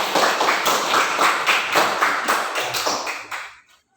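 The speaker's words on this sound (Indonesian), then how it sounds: "Tepuk tangan dulu." A classroom of students clapping hands together, brisk rhythmic claps in a loose shared beat that taper and stop abruptly near the end.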